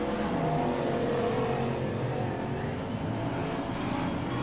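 Stockcars race around a track in Auckland, engines roaring and revving in a continuous dense drone from several cars at once, loud and steady with no voices.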